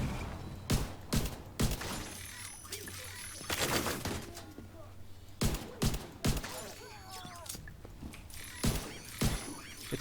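Pistol shots fired in The Division 2 ring out as a series of sharp, separate cracks spread irregularly across the stretch, some in quick pairs, with faint game ambience between them.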